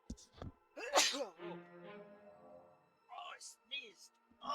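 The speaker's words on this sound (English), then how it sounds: "That was a big sneeze." A single loud human sneeze bursts out near the start, close and forceful, with a short breathy intake before it, followed by calmer voiced sounds and scattered speech afterward.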